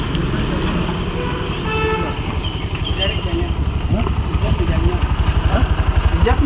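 An auto rickshaw toots its horn repeatedly amid busy traffic with motorcycles and engines on a road between Jamshedpur and Kolkata, while people talk nearby throughout.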